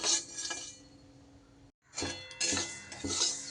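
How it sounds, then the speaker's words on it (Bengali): Rice is dry-roasted and stirred in a wok, a close run of metallic scraping and clinking with a brief pause midway, then resumed stirring. "কয়েক সেকেন্ড নেড়ে নিলেই কিন্তু হবে।"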